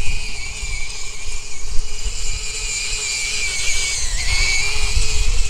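An FTX Buzz Saw Xtreme radio-controlled tracked vehicle whines steadily as it drives down a steep hill in a park, a continuous motor drone with shifting pitch and rumbling underneath, with no talking.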